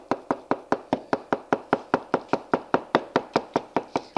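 A cleaver chops soft cooked food into shreds on a board in a fast, even series of about twenty crisp knocks, close up and without talk.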